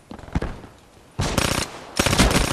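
Pharaoh gun firing in the video game Call of Duty, two loud bursts of rapid automatic shots after a few softer pops, close and punchy.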